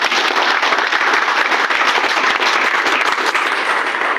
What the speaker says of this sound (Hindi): मैं चाहता हूं जोरदार तालियां।